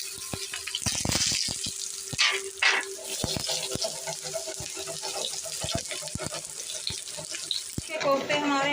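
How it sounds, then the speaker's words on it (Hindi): Potato kofta frying in a shallow layer of hot oil make a busy, close crackling sizzle with scattered sharp pops and splashy bursts throughout. "अब हम इसमें आलू के कोफ्ते फ्राई कर लेंगे"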